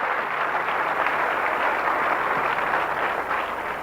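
A church congregation claps during a sermon, giving steady, dense applause that holds at an even level throughout.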